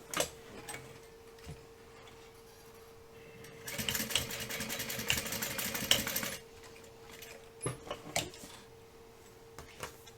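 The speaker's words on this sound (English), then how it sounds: "I'm going to run a line of stitching right as close to that ring as I can" A sewing machine runs a line of stitching close to a ring, one steady burst of rapid mechanical ticking lasting a few seconds, with quieter handling clicks before and after.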